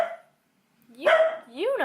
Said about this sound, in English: what are you barking at? Hush.